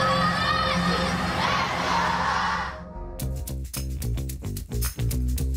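A crowd of children chants and shouts loudly together, their voices overlapping at first before breaking into rhythmic, clipped chanted bursts with sharp pauses between them.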